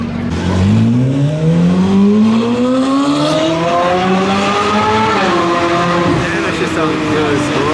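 A Ferrari 458 Speciale drives along a city street, its engine loud and close as the revs climb through the gears, rising steadily and then easing off near the end.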